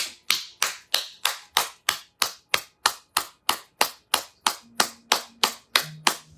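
A church congregation claps in acclamation during a Pentecost service, with sharp, loud claps in a steady, quick unison rhythm of about three per second. A faint low tone enters under the later claps.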